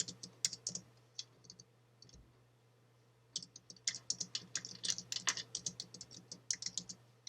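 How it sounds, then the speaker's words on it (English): Text is typed on a computer keyboard during a Photoshop session, a faint close run of key clicks, a brief pause, then a quicker, denser burst of tapping over a low hum. "just click on your page and then just type your text"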